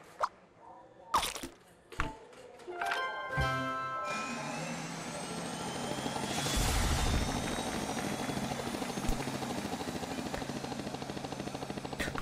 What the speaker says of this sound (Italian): Posso andare anch'io in elicottero?